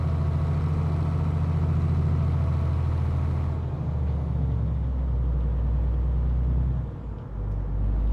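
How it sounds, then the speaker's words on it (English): A Mercedes Actros truck in Euro Truck Simulator 2, fitted with a sound mod, hums with a steady low engine note, then drops to a deeper rumble as the revs fall, with a short hiss of release near the start. "I can hear the engine revs very high, and I can hear like the valves rattling and stuff"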